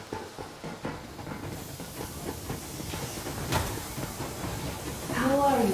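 A steam train running full steam ahead in the Metro Exodus video game rumbles steadily with hissing and rhythmic rail clatter, while people talk over it.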